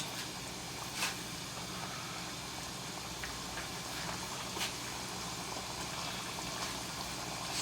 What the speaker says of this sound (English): So we want that to just boil, kind of like I do the green beans.